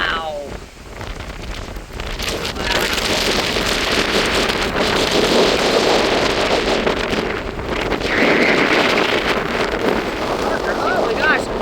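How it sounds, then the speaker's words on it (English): Strong wind roars steadily through the trees of a forest gorge on the Red River Gorge Rough Trail, a loud, sustained rush with gusty swells and buffeting against the microphone. "you can really hear that wind."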